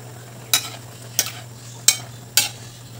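Spring onion leaves go into a cooking dish with four short stirring scrapes at a steady rhythm, close by over a low constant hum, no voices.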